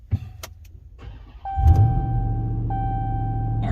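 A 2021 Ram 1500 TRX with a 6.2 liter V8 engine starting: a brief starter whir, then the engine catches into a steady, deep idle rumble heard close up and without talk.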